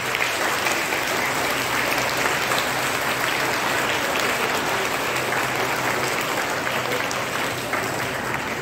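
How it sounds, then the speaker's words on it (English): An audience at a school Independence Day celebration gives the student performers and teachers a big round of applause, loud dense clapping holding steady throughout without speech. "huge applause"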